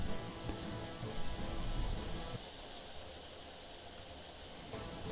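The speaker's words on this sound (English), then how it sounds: "Feel free to have the sounds of pouring rain in the background." Steady pouring rain hisses throughout as a broad, continuous wash, a little heavier in the first half and then settling to a softer, even patter.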